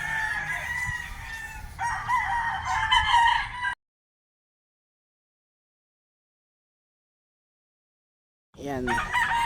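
A rooster crows loudly and close, followed by a long silence, then the start of another crow.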